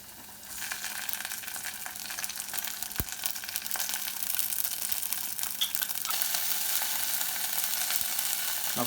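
Garlic, ginger and green curry paste fry in hot oil for a vegan Thai green curry, giving a steady, close hiss and crackle that runs without a break, with an occasional soft clink of a utensil.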